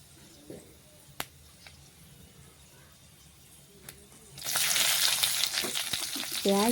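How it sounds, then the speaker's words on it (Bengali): Chopped onion added to a pan of oil with whole cumin seed spices, breaking into a loud, steady frying sizzle after a few light taps and clicks; no talking. "একটা বড় সাইজ পেঁয়াজ কুচিয়ে রেখেছি, সেই পেঁয়াজ কুচি দিয়ে দেব।"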